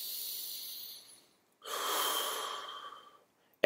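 One slow, deep breath taken during a stress-relief tapping exercise: a soft airy inhale, a brief pause, then a longer audible exhale, close and quiet with no talking.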